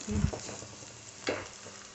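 Crushed chili powder frying in a pan for a jackfruit-seed and snake-gourd stir-fry gives a close, steady sizzle with a couple of brief stirring scrapes, and no speech.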